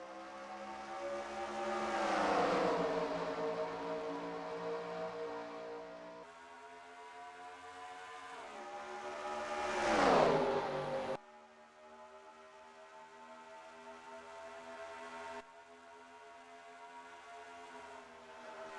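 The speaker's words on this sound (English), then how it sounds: "As these cars build speed and build momentum, you saw already near 190 miles an hour" Race cars in a NASCAR racing game at Lowe's Motor Speedway howl past in rising, sweeping engine whines, two loud passes then a steadier drone as the field builds speed after the green flag.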